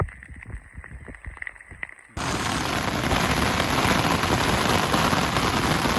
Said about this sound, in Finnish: Niin kovasti tulee vettä siihen mun telttakapia.